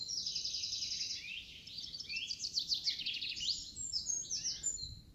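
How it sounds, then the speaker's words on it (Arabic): Small birds, likely canaries, sing and chirp in quick trilling phrases over a low outdoor rumble in the northern Turkish countryside, several voices overlapping, moderately close with no talking. "كل عصفور له صوت."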